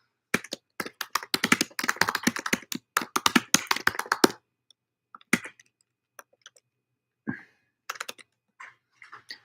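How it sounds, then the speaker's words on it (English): Rapid, steady typing on a computer keyboard fills the first four seconds with dense clicking, then thins to a few scattered key taps and pauses; close and fairly quiet, with no speech. "I'll type it in the chat anyway"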